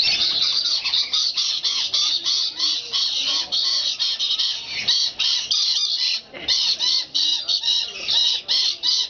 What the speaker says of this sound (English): Hey, Lily, there are other birds in here.